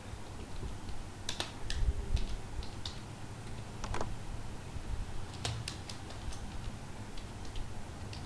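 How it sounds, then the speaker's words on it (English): Scattered bursts of key clicks from a computer keyboard, quiet and close, with irregular pauses between short runs of typing over a low room hum. "here I am going to type daily mean temperature."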